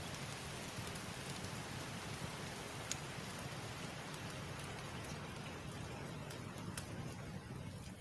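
Steady rain falls on a surface, a dense even hiss with scattered individual drops, continuous and moderately quiet throughout.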